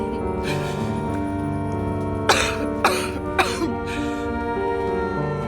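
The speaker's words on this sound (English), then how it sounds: "How long have you had that cough?" A series of three or four harsh, sharp coughs in quick succession, close and fairly loud, over a steady droning background.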